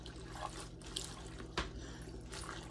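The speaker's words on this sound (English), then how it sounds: "press it down up in this water. We need to wash these" Collard greens pressed down and washed in a sink of water, giving soft sloshing and splashing with a brief louder swish midway, close up and continuous.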